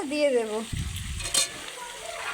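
Chicken and potato pieces being stir-fried for a Bengali chicken aloo dish, a brief sizzle with stirring scrapes following a short spoken phrase at the start.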